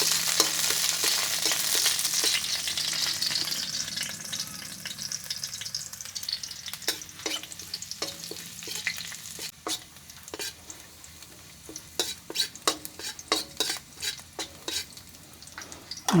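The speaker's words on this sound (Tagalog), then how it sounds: "Gisa time. Lagyan na po natin yung bawang." Garlic sautés in a pan for a kangkong dish, a strong continuous sizzle heard close, with a metal spatula repeatedly scraping and clinking against the pan as it is stirred.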